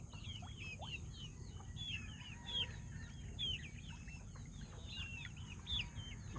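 A flock of chickens, including young ones, clucks and chirps steadily at a distance, faint over a low background hum, with no talking.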